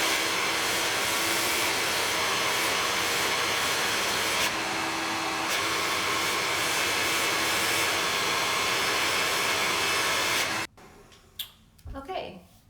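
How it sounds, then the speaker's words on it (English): A hair dryer blows hair with a loud, steady whooshing roar close by for about ten seconds, then switches off, leaving quieter handling sounds. "I'm just going to start by smoothing out my hair before I blow dry it"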